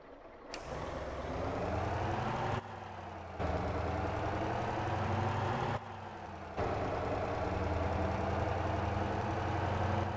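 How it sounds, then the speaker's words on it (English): In the Motor Town game, a heavy truck hauling a massive steel load idles under strain, its low, loud engine drone cutting out briefly twice before resuming steadily. "Definitely not tuned for this heavy load. The engine sounds, it's definitely not stock."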